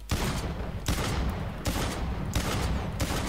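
Dense, loud gunfire from the online shooter Blacklight Retribution, with several bursts of overlapping shots rattling continuously through the whole stretch, no talk over it.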